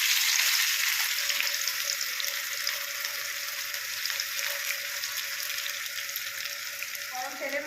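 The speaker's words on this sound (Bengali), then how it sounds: "গরম তেলের মধ্যে পেঁয়াজ দেওয়া হয়ে গেছে।" Sliced onions for beresta, for an egg korma, frying in hot oil over a medium flame. A loud, steady, close sizzle hisses without pause from start to finish.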